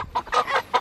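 Several short clucking bursts from nearby chickens, a quick series of choppy, nasal calls with brief gaps between them.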